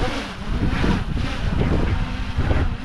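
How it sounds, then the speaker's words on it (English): Strong wind gusting around 15-20 mph on an exposed Peak District hilltop buffets the microphone in heavy rumbling gusts, rising and falling steadily throughout, with no voices. "it's probably 15-20 mile an hour gusts up here right now"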